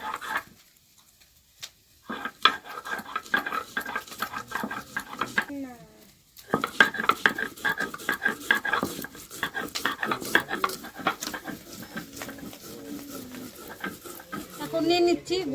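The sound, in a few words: ginger and chillies being ground into paste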